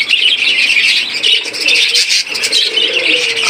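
A pair of budgerigars chirps steadily, with dense, overlapping high twitters and calls running throughout, fairly close and loud, with no voices.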